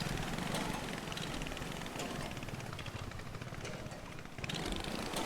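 In the video game A Short Hike, a faulty boat engine drones with a rough, sputtering buzz that holds steady and fairly loud across the stretch without speech.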